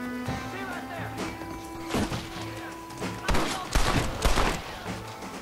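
Gunfire in the video game Red Dead Redemption, several sharp shots and a short burst of booming reports over steady game music, with someone talking over it.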